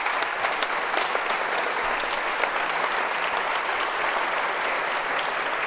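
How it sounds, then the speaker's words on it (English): A conference audience at Chile Day in Church House, Westminster, London, applauds a panel with sustained, dense clapping that stays steady from start to finish, close and full, with no talking over it. "A big applause for them."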